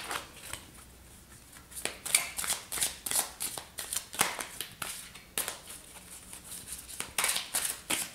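Oracle cards being shuffled and drawn from the deck, a run of close, quiet papery riffles and flicks in quick bursts.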